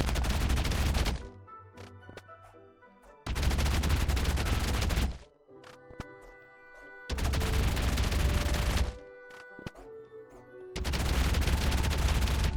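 Minecraft Wither fight after its spawn explosion, heard as four loud bursts of blasting, crackling gunfire-like noise, each lasting a second or two, with quieter game sounds and thuds in between.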